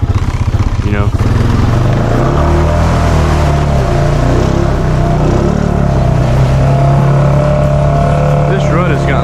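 A Honda Foreman ATV with a snorkel churns through deep mud ruts, its engine loud and close with a constant rumbling drone and shifting revs throughout, plus splashing textures.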